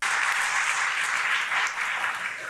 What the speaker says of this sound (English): What's going on with the clapping?